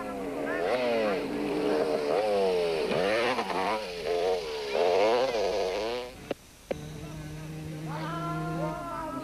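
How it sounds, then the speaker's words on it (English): Racing motorcycles, including a Kawasaki, roar through a 1991 desert race in Mmabatho, engine notes rising and falling loudly through gear changes before a brief cut, then a steady drone resumes. "There was pressure for Niemann from Yanni de Bruyn, who was flying on the NGK Team Green Kawasaki"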